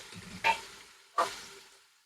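Mutton pulao being fried and stirred with spices in a pot, two distinct sharp spoon scrapes against the metal over a faint, low sizzle, close and otherwise quiet.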